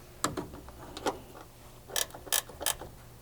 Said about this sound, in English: using an 8mm socket or wrench, you can remove these 2 taillight mounting screws